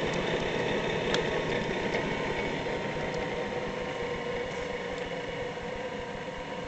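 A Gorton 9-J milling machine runs with a steady, continuous mechanical hum and whir, close and even in level throughout with no pauses and no talking.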